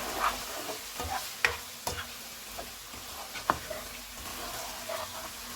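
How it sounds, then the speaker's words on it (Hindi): Red chilli, cumin and coriander powders fry in a pot for a Mughlai chicken handi, a faint steady sizzle broken by occasional soft scrapes and taps as the spices are stirred. "इनको 2 मिनट तक भूनेंगे।"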